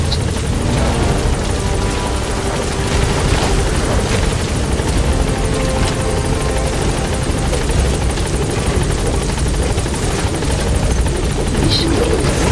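Support helicopter in Metal Gear Solid 5 hovering at the landing zone, its rotor beating as a loud, steady, close roar that holds for the whole stretch with no pauses.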